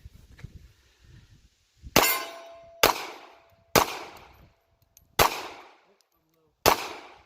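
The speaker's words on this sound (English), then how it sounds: "I'm going to let Preston run this last partial mag here" A Ruger LCP Max .380 ACP pistol fires five sharp, loud shots at irregular intervals of roughly one second. Each crack rings out briefly outdoors, and there is faint talk before the first shot.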